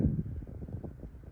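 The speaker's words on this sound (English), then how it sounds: "It's too windy." Gusty wind blows outdoors, buffeting the microphone with a steady low rumble and fluctuating rush, with no talking heard.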